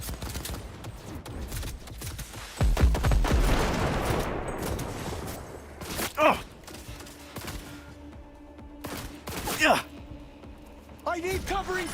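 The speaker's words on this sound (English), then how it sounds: "They're opening fire!" Enemy gunfire in the video game Cyberpunk 2077, bursts of shooting rising from about a third of the way in, with a few sharper shots later, while a voice talks throughout.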